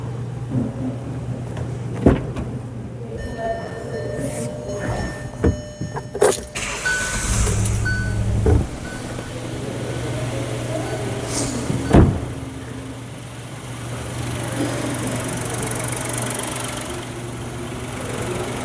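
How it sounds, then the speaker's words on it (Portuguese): A car engine is cranked and fires up during an oscilloscope current test, then settles into a steady low idle with occasional clicks and clunks around it, fairly close and moderately loud. "E vamos dar partida no automóvel."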